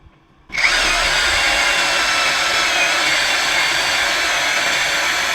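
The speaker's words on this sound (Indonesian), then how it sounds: "Kita akan pengeboran media kayu bor kipas ukuran di 18 mili." A brushless Xenon X-CDID707N cordless impact drill with an 18 mm spade bit starts abruptly after a brief quiet moment and runs at a steady, loud whine, boring continuously into wood without pause.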